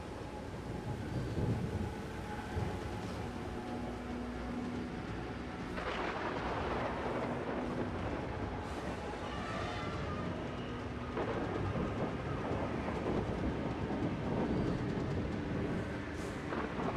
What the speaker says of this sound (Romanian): Nu știu, o furtună, nu știu ce e asta.